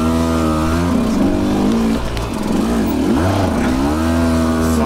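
A KTM 200XCW two-stroke enduro motorcycle riding off-road on Mitas Terra Force EF tires at White River South, its engine loud and close, revving up and down through rising and falling pitch, with a short dip in throttle midway.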